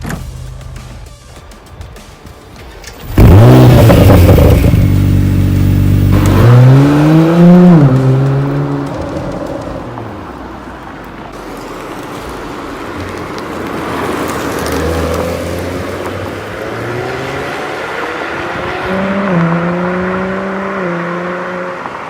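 A 2017 Acura NSX engine bursts loudly to life and revs hard, its pitch climbing and falling through several surges as the car drives, close and prominent with no talking.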